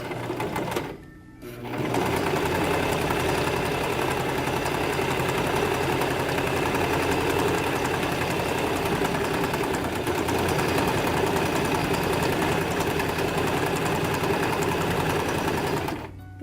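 A sewing machine runs a continuous straight stitch on a plastic bag holder project, a loud, steady mechanical hum and rapid needle clatter that starts after a brief pause and holds evenly to the end.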